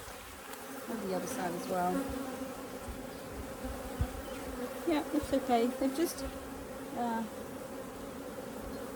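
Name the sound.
bees buzzing in a beehive during inspection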